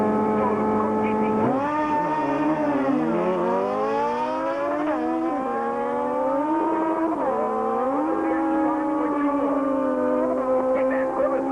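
A Shell-sponsored Yamaha drag bike launches and screams down a quarter-mile strip, its loud engine note climbing steadily through several shifts, with harmonics dipping and rising again at each gear change, sustained and close throughout.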